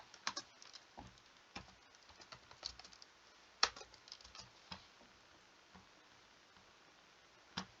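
Computer keyboard typing, quiet and close, in sparse irregular bursts of clicks with short pauses between, over a faint room hiss; no voices.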